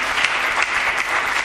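Audience applause for a poet's song at a Hindi comedy poetry gathering, dense steady clapping from a crowd, fairly loud and unbroken.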